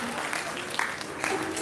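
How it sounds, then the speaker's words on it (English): An audience at an education awards conclave claps steadily, a dense continuous patter of applause with a voice speaking over it. "जोर से बजाओ।"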